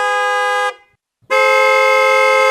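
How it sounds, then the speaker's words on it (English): Loud car horns blaring in long sustained blasts, one held honk cutting off into a brief gap before another steady horn blast resumes, close and dominant. "Cars honk."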